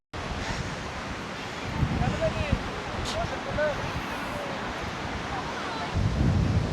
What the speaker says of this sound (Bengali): আহা, কি ঠান্ডা হাওয়া।